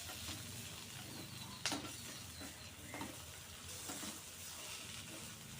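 Spicy country-egg omelette sizzles and fries in a pan under steady stirring, with a few sharp spatula scrapes standing out near the start and middle; close and continuous, no talking.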